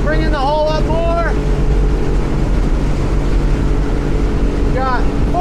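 A 2017 Edge Marine 23'7" boat runs at full throttle on its Yamaha 250 outboard into the wind, giving a steady, loud engine drone with heavy wind and water rush and a few brief whistling tones.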